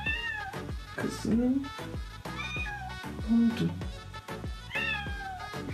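A pet cat meows repeatedly, several drawn-out rising and falling cries up close, with someone speaking softly to it between and over the calls.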